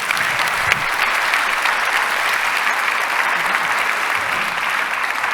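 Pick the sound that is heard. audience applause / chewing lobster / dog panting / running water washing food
audience applause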